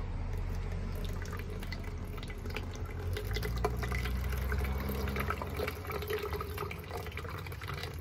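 Water trickles and drips steadily into a bottle through a wick, a continuous close splashing texture with faint individual drops throughout, no voices.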